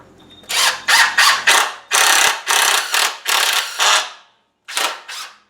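A power driver runs a screw through a board into a block in a garage for floating shelves, giving a series of loud, close ratcheting bursts in quick succession, with a short pause before two final bursts.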